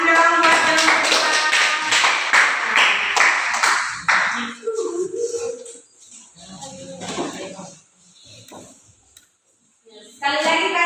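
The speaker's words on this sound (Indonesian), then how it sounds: "Tepuk tangan dong buat kelompok 2." A class applauds a student group in a lesson, with dense clapping and voices for about four seconds before fading into speech and quieter sounds.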